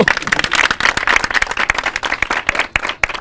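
Close, loud applause in a studio setting after a song is performed, with sharp individual claps standing out in a brisk, continuous patter.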